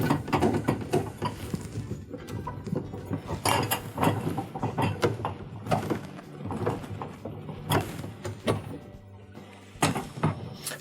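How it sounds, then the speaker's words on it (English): Phillips screws are backed out of a GE dishwasher door latch, giving close, irregular clicks, scrapes and ratcheting metal knocks throughout. "There's two Phillips screws that mount the latch in place. We'll go ahead and remove those."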